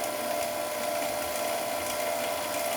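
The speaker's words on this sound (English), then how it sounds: "So now I'm going to close off my vacuum." A vacuum pump on a freeze dryer runs steadily with a constant droning hum and no break, holding an even level throughout.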